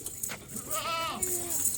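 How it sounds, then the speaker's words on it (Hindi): A goat at a livestock market bleats once in a wavering, drawn-out call, fairly close but modest in level, over faint background market noise. "ये किसी की आई है बकरी क्रॉस करवाने के लिए लेके आए हैं इधर"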